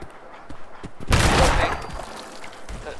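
A double-barreled shotgun fires in the video game Fallout 4. One loud, close blast rings out, followed by a rolling, decaying boom, and a few quieter thuds sound around it.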